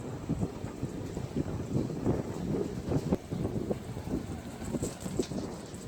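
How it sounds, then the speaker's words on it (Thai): Strong west and southwest wind blows in steady, rumbling gusts across an open microphone outdoors, with a continuous rough roar and no voices. "ลมตะวันตกก็ลมตะวันตกเฉียงใต้ก็พัดแรง"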